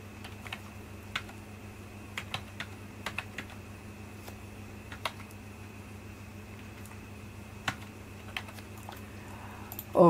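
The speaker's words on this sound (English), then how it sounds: "I'm just going to type the numbers again." Numbers are typed on a computer keyboard in sparse, light clicks spaced irregularly over a low steady hum, with a louder clatter at the very end; no talking.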